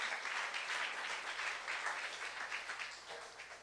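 Church congregation clapping together at a youth service, a steady wash of many hands applauding at moderate volume throughout, gradually thinning toward the end.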